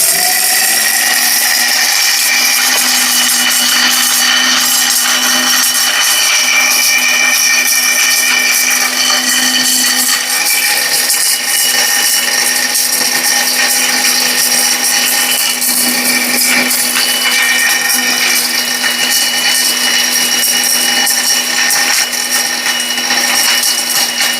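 A Niyama multi-function grinder running continuously at high speed while mincing meat and grinding spices, a loud, steady whine with a wavering motor tone that holds throughout, close, with no voices.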